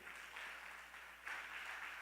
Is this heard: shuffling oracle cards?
no